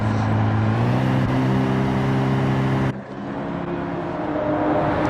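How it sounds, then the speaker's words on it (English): A race car in a racing game at Spa-Francorchamps pulls out of the pit lane, its engine droning loud and steady with a tonal hum that shifts pitch partway through before settling lower. "That was a car. I don't know which car."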